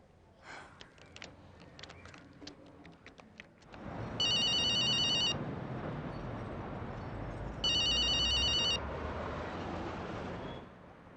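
A phone rings with two bursts of a bright electronic trill over background noise, loud and close, with room sound between the rings.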